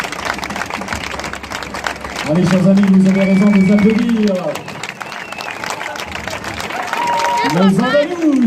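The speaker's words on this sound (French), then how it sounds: "Avec plus fort des applaudissements, s'il vous plaît." A festival crowd in Issoire keeps applauding the Adolfo de Castro dance group from Cádiz. Steady, moderate clapping continues beneath someone speaking loudly over a microphone.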